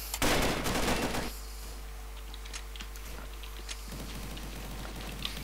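MK.48 machine gun fired in a video game: one dense, loud burst of rapid automatic fire lasting about a second, followed by quieter in-game ambience with scattered faint clicks and taps.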